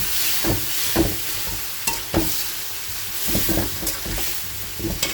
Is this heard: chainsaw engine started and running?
no